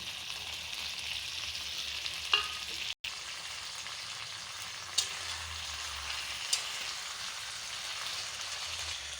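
Fried potatoes go into chicken kosha cooking in a pan, giving a steady, moderately loud sizzle and frying hiss throughout with a few brief clicks and stirring knocks, and no talking.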